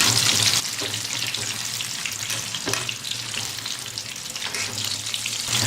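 Sweet potato bonda deep frying in hot oil, turned over partway; a steady, close, bubbling sizzle at moderate level, continuous throughout with a few brief sharper crackles.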